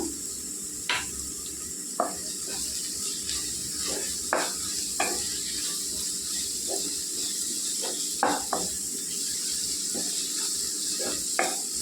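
Chili powder and masala spices frying in hot oil for cabbage curry, a steady soft sizzle with occasional stirring clicks and scrapes of a spoon against the pan.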